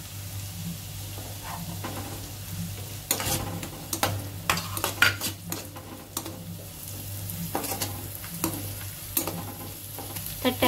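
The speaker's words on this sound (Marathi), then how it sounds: "कांदा चांगला गोल्डन ब्राउन झाल्याच्या नंतर आपण लसूण टाकतोय।" Onion and garlic fry in a home kitchen pan for a Marathi cashew-spinach masala, a steady close sizzle broken by repeated stirring scrapes and clinks of a spoon against the pan.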